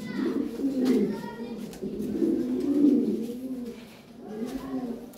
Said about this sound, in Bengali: এক জোড়া লাহোরি আছে, এলো ব্ল্যাক লাহোরি,